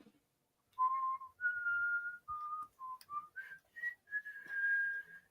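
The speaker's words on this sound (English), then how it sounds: "When you whistle, does it go through your beak or through your mouth?" Someone whistles a short melodic tune up close, a string of clear sustained notes stepping upward in pitch with brief pauses between them.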